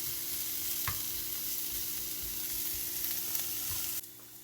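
Onions and mushrooms sizzle steadily in a pan while being stirred, with a few soft scrapes and knocks of the utensil, close and continuous with no talking; the frying noise drops abruptly near the end.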